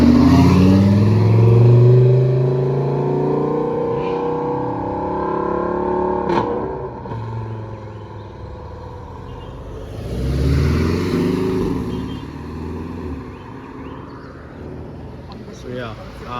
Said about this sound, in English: basically this is what's happening as the cars are leaving